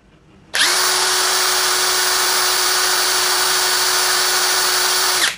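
A Kamolee 700 Nm impact wrench running in the bolt-loosening direction starts abruptly and holds a loud, steady, high motor whine close up for about five seconds before it cuts off, with no talking.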